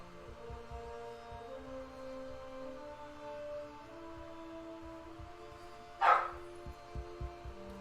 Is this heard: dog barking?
yes